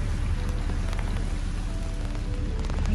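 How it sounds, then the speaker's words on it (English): Steady rain drumming on the roof of a narrowboat, a dense, even patter heard from inside the cabin, loud and constant throughout with scattered individual drop ticks. "Oh, here comes the rain again."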